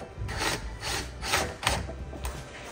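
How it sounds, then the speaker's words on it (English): A 10 mm socket wrench tightens the mounting hardware on an EZGO TXT golf cart charge receptacle, producing a close rhythmic ratcheting of about five or six rasping bursts in a row. "Using your 10 millimeter socket and your Phillips head screwdriver, go ahead and tighten down the mounting hardware."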